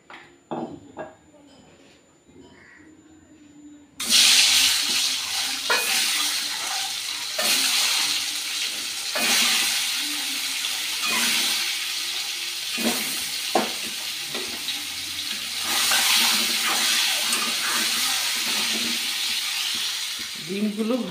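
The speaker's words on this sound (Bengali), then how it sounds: "এবার আমি ডিমগুলো ভেজে নেব।" Turmeric-and-salt-coated eggs dropped into hot mustard oil in a kadai: a quiet start with light taps, then a sudden loud, sustained sizzle and spitting close by, with occasional stirring knocks.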